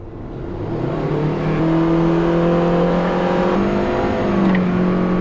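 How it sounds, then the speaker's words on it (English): A 2018 Toyota C-HR and a Honda HR-V accelerate at full throttle, the engine drone swelling quickly and holding loud and steady as the revs climb, with no talking. "Let's both floor it and we'll see how loud these cars are"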